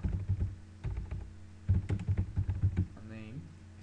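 Fingers tap out text on a computer keyboard, making a close, irregular stream of quick clicking keystrokes in short bursts over a low background hum.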